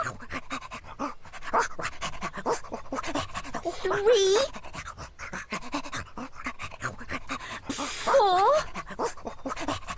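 A dog pants steadily and rhythmically, close and fairly loud, while running back and forth, with people talking and counting over it and brief squeaky sounds between.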